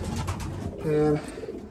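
Pigeons coo in a loft, a low throaty warble swelling briefly mid-clip, with softer bird murmurs and background shuffling around it.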